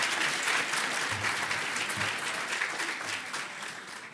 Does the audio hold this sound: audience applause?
yes